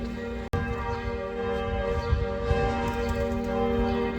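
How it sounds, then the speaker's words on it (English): Church bells from several rival churches ring together, overlapping sustained tones that hum steadily at moderate distance, with a sharp brief click near the start. "So the bells are actually coming from competing churches."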